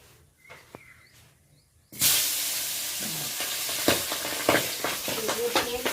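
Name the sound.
frying tengra fish in oil in a pan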